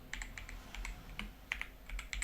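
Quiet, quick clicks of a computer keyboard as Java code is typed, irregular bursts of keystrokes close by with no talking.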